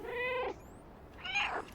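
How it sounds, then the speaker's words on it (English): A cat meows twice in the video game Stray, two short, clear mews separated by a brief pause, close and fairly soft, with no talking. "Anytime we have a cutscene, if we want to, we can meow."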